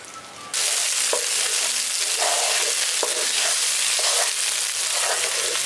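Ground turmeric and chilli powder sizzle loudly in hot oil in a pan for a brinjal curry with mustard and poppy seed, a steady crackling fry broken by the light scrape of stirring every second or so, with no voices.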